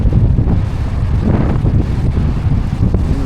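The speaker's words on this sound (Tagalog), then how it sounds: "Grabing amihan to." Strong amihan monsoon wind roaring steadily into the microphone outdoors, a loud continuous rumbling buffet with no pauses.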